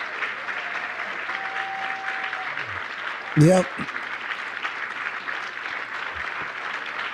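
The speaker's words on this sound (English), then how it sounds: "These people are clapping for good on you." Audience applause rises briefly beneath an ongoing voice at a political-religious gathering, a short burst of clapping standing out over steady talk.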